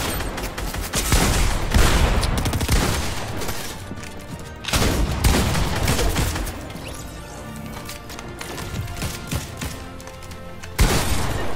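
Gunfire crackles in a Fortnite late-game arena match, with several loud bursts of rapid shots and crashes separated by short quieter gaps, then a sharp blast near the end.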